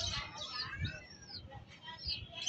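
Racing pigeons during a fun race flutter and call around a loft, with faint chirps, soft coos and rustling wings under quiet background noise.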